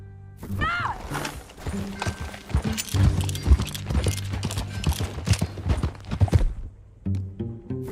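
Rapid clip-clop of horse hooves in the video game Red Dead Redemption 2, close and steady, with a brief whinny near the start and a few voices talking over the hoofbeats.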